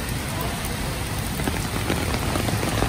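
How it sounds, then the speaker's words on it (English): Heavy rain pouring down steadily in a city street, a dense, loud, continuous wash of drops spattering nearby surfaces with no pauses; no voices. "Why is the rain so freaking heavy?"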